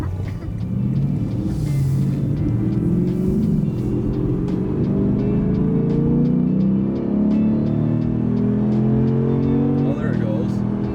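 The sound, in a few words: BMW engine accelerating in Sport Plus driving mode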